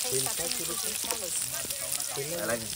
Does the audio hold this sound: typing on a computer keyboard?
no